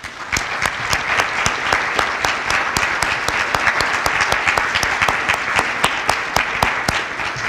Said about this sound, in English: I want a round of applause for you,